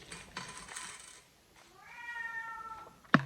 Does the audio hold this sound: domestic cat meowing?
yes